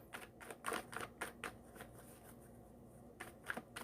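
Tarot cards being drawn and handled from a deck during a reading, a run of quick soft card snaps and shuffling rustles with short pauses, close and fairly quiet, no voices.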